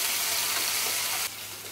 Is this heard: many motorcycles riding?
no